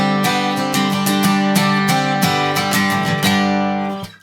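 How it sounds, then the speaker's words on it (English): A bright acoustic guitar riff of quick plucked notes and strums in a steady rhythm, close and clear, ringing out and fading at the end. "So there's that little guitar riff that you can do"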